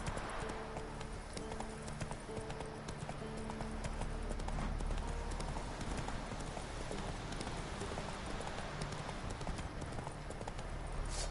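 Hooves of Roach, a horse in The Witcher video game, clip-clop in a steady rhythmic trot throughout, fairly faint and close, with no talk over them.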